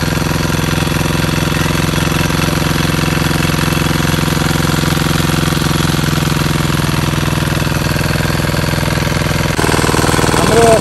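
A tractor engine works while ploughing a corn field, giving a loud, continuous diesel rumble with a hard hammering clatter that shifts slightly near the end.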